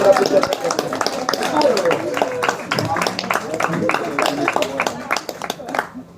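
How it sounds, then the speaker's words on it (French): An audience applauds a boy with a dense run of sharp, close hand claps that carries on steadily for several seconds before cutting off, with voices mixed in. "On peut l'applaudir très très fort."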